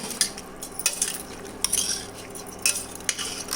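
Chicken curry is stirred in a pan, a spoon scraping and tapping the metal in quick irregular strokes with bright clinks, close and clear over a soft low hum, with no voices.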